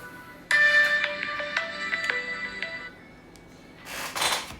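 A mobile phone rings with a bright electronic melody of tonal notes that starts abruptly, plays for a couple of seconds, pauses, then returns briefly with a brighter burst.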